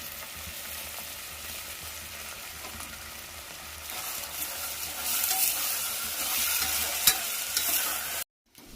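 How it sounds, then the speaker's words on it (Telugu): Fenugreek leaves frying and being stirred in a pan with tomato and green chillies for a methi bath, a steady sizzle with scraping stirs that grows louder partway through, no talking. "మెంతి ఆకు కూడా వేసుకొని ఫ్రై చేసుకోవాలి"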